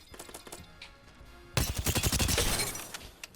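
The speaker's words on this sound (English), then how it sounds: "Moving on to the energy guns. The Volt." A Volt energy submachine gun fires in Apex Legends, with a few scattered shots at first and then a fast, loud sustained burst of rapid fire.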